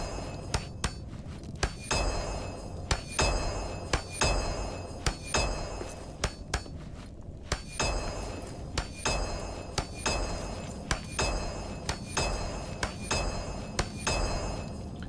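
Repeated hammer strikes clearing mold from stone in Return to Moria ring out in a brisk, regular rhythm, each hit a bright metallic clink with a short ring, layered over a faint ambient drone.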